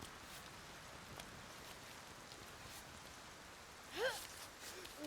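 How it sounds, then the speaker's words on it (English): Rain falls steadily in the climbing video game Cairn, a soft continuous hiss of drops on surfaces, with a brief louder chirping sound near the end. "Rain is definitely not helping over here."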